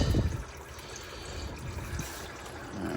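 Coolant draining from the radiator lines of a car engine gives a steady low trickle and dribble of liquid, with a louder gush at the start that settles into a continuous quieter flow.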